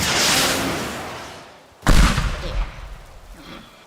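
A rocket launcher blast and explosion on a plane in the building game Teardown: a rushing roar fades, then a sharp loud boom hits near the two-second mark and rumbles with debris, with a brief spoken word.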